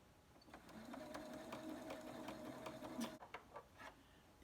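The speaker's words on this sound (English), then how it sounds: "And continue to sew." A home sewing machine stitches a fabric face mask, a quiet, steady, rapid mechanical whir with even needle clatter that runs for about three seconds, then stops amid a few soft handling clicks.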